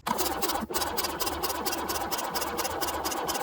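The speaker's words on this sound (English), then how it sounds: "Let's give it a crank and see what happens." Starter cranking an abandoned Volvo Amazon engine that does not catch, a steady rhythmic chugging whir held for several seconds at close range.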